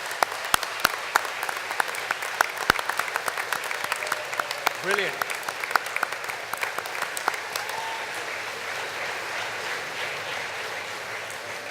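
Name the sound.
applause from graduation ceremony audience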